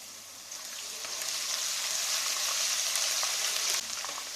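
Steady, loud sizzling of garlic ginger paste frying in hot oil, a continuous crackling hiss close by with no voices.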